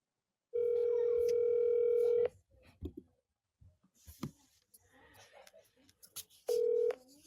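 A telephone dial tone sounds steadily for nearly two seconds while a phone call is placed. Clicks, handling noise and faint voices follow, and then the tone returns briefly at the end.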